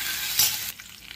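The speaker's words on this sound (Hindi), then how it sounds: "अब इसी में अदरक और लहसुन का पेस्ट वो डाल देंगे कुचा हुआ, देख सकते हैं डाल दिए। अब इसको हम चला लेते हैं," Ginger-garlic paste with cumin and fenugreek sizzles loudly in hot oil while being stirred, a brief burst of bright close frying hiss with a scraping stir in the middle.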